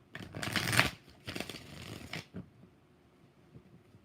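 Tarot cards being shuffled up close in two busy riffling bursts, then a few faint soft flicks as the deck settles, with no talking.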